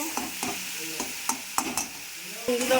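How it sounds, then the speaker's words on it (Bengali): Spice masala is stirred and sautéed in a pan with a splash of water for a fish curry, soft sizzling under repeated scraping strokes of a spoon, close and moderately quiet. "একটু জল দিয়ে মশলাটা কষে নেব।"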